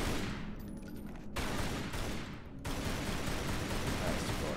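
Gunfire in the video game Tomb Raider Anniversary, a dense run of rapid shots with abrupt cuts between bursts, loud and steady with a voice faintly present beneath.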